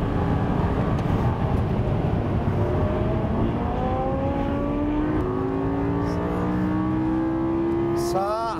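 A 2009 Lamborghini Gallardo LP560-4 with four-wheel drive screams up through the gears toward 8600 rpm, its engine note climbing in rising sweeps, shifting, then climbing again at speed, with wind roar underneath and someone talking over it.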